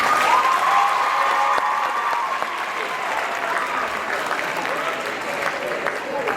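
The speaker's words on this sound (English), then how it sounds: "can we please clap for Belisha?" A school assembly audience claps continuously for a student at an anti-bullying event, a dense, fairly loud patter that eases slightly over time, with a voice briefly heard over the start.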